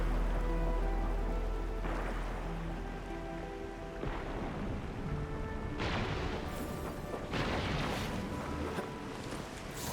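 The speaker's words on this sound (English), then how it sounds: "It's raining harder. I can't hear anything except for the rain." Heavy rain pours steadily in the video game Arknights Endfield, a dense continuous hiss with several louder surging bursts and low rumbles layered over ambient game tones.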